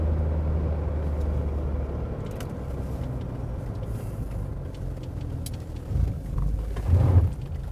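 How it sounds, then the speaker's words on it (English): A Mercedes 240D diesel car cruises in fourth gear at about 48 mph, giving a steady low engine and road rumble throughout with a slightly louder swell near the end. "Nice cruising in a 240D."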